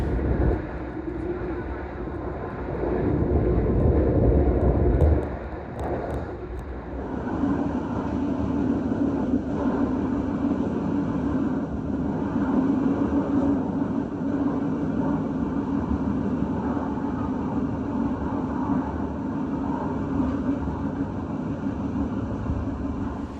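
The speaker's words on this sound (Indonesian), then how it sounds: "kereta bakal berangkat lagi" A Brantas passenger train departs and runs, heard from on board as a steady, loud rumble with a low drone. A louder surge comes early on before the sound settles into continuous running noise.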